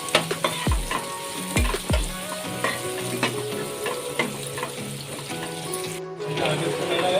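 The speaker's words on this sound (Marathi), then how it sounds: "आता आपण इथे कांदा सुद्धा घालूया बारीक कट करून घ्यायचं" Chopped onion, ginger, garlic and green chili sautéing in a pan give a continuous close sizzle, with a few sharp clunks of a spoon at the start and stirring scrapes throughout.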